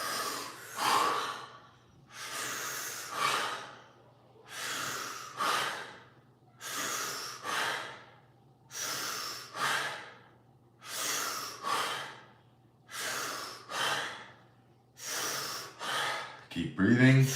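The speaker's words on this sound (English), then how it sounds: "Let us all breathe together in the collective energy." A group breathes in unison during a live guided breathwork session, with about eight deep, forceful inhale-exhale cycles repeating at a steady rhythm over a low constant hum.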